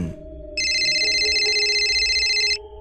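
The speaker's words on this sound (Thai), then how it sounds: "ไม่นานก็ได้มีเสียงโทรศัพท์ดังขึ้น" A telephone rings with a bright electronic trill, one sustained burst of about two seconds over a low background hum, fairly loud and close, with no voices during the ring.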